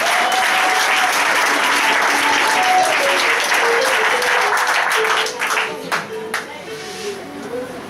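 A church congregation breaks into loud, sustained applause and cheering, a dense wash of clapping that holds steady for several seconds, then thins into scattered claps with a few voices shouting over it near the end.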